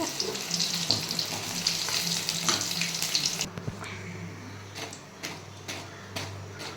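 Chicken 65 frying in oil on a low flame, a steady close crackling sizzle that drops abruptly midway to quieter bubbling with scattered pops and light clinks.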